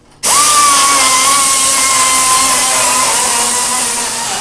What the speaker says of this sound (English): Ethan right now is currently trying to put the pencil grinder in the hole there.